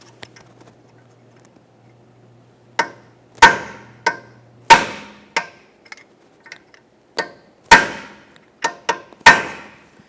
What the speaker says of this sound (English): I'm using a hammer and punch.